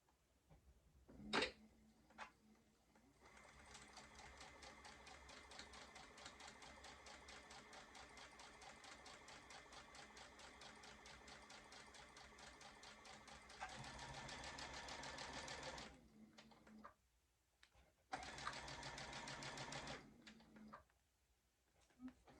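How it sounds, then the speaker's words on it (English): A sewing machine stitching a quarter-inch seam on a quilt block, running in a rapid steady mechanical chatter for long stretches, with short pauses and a couple of restarts near the end. "And then sew my 1/4 inch down this side as well."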